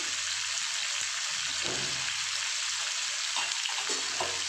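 Capsicum and onions frying in a pan with a steady, close, broadband sizzle throughout, broken by a few soft stirring scrapes and no talking.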